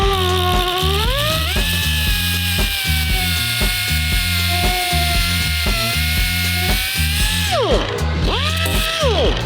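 A high-pitched rotary grinder works soft, compromised metal on a Porsche 964 engine down to clean metal. The whine is loud and close and rises in pitch at the start, holds steady against the metal, then dips and surges near the end.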